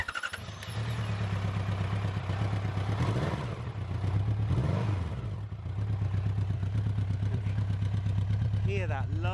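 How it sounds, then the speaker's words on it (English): A 2017 Honda CB1100RS motorcycle engine starts and settles into a steady, deep throaty burble at idle, with a few revs swelling in the middle, close and loud throughout. "So let's hear this beautiful machine start up."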